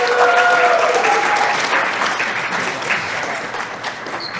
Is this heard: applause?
yes